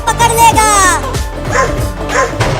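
A cartoon dog barks and yips in quick, loud, close bursts, its animated voice mixed with whimpering tones through a short chase scene.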